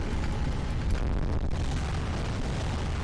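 Cannons fire in the video game Drakengard, a dense continuous rumble of explosions and booms that stays loud and unbroken for the whole stretch.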